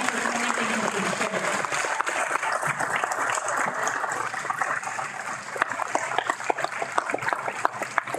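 Dense, continuous applause from an audience honouring two men at a PlaneTalk Pro event, holding an even level throughout with sharper individual claps near the end.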